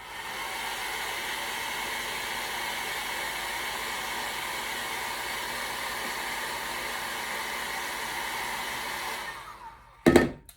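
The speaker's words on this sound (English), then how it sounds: "hit that with the dryer and let it dry" A hair dryer blows steadily for about nine seconds, drying paint on a craft snowman, then cuts off, followed by a brief clatter as it is set down.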